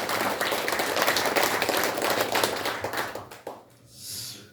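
An audience at a launch ceremony breaks into a burst of crowded clapping that holds for about three seconds, then quickly dies away into a quiet room.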